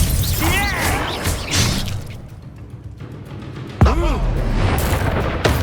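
Spell blasts from Confringo and Bombarda in Hogwarts Legacy, loud crashing booms and shattering bursts mixed with combat music, while shouted incantations and voices run over the top.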